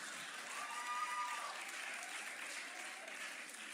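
Audience applause at a stand-up comedy show, a steady, even wash of clapping throughout, fairly soft and distant.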